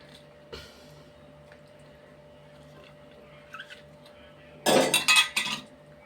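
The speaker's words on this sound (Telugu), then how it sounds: "మామిడికాయ ముక్కలు వేస్తున్నాయండి" Mango pieces tipped into a curry pan in a home kitchen, with a short cluster of sharp clinks and scrapes of dishes and utensils near the end, after quiet, low background hum.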